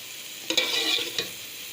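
Onions frying in hot oil while being stirred, giving a steady close sizzle with a few sharper bursts and scrapes; no voices.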